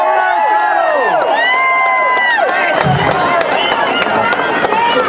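Large outdoor rally crowd on the US Capitol West Lawn cheering and whooping loudly and continuously, with shouts and whistles rising over a dense roar of voices.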